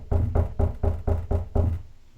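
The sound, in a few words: knocking on a board held against a door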